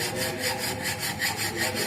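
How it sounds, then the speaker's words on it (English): A rough file is drawn back and forth across metal in a fitting shop, making rhythmic rasping strokes about twice a second, close and loud with no voices. "by using the rough file, we remove the extra material"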